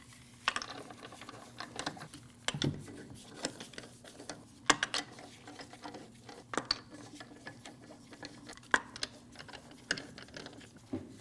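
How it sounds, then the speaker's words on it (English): Lug nuts are threaded by hand onto the wheel studs of a Honda CR-V, making quiet, irregular metallic clicks and light rattles close by, with no talking. "Put your lug nuts on by hand."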